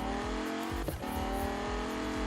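A car engine in a racing video game drones loudly and steadily at high revs, with a brief dip and a faint tire squeal partway through.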